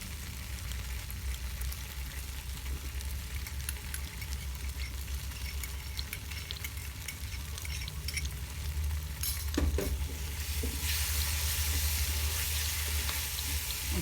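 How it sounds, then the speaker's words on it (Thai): Sausages frying in a pan for a barbecue-sauce dish, a steady close sizzle with faint stirring scrapes, briefly clattering, then a brighter, louder hiss near the end. "ใช้ไส้กรอกตัวนี้นะครับ ทอดบาร์บีคิวจะอร่อย"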